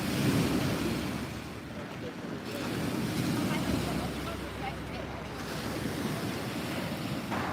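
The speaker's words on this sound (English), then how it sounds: "It's windy right out on the lake" Strong wind on Lake Wakatipu, Queenstown, New Zealand, buffets the microphone in a constant roaring rush, with water sloshing faintly beneath.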